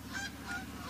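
Geese honk three times in quick succession, loud and close, over a steady low background hum.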